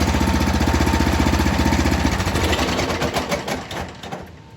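A Craftsman 30-inch snow thrower engine runs with a steady rapid chugging close by, then sputters and winds down as it is shut off near the end.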